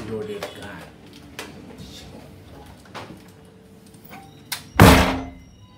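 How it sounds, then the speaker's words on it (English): Door in a home during a Nerf war game, with a few faint knocks and creaks, then one loud close thunk near the end; quiet voices come and go. "What is that sound from this door?"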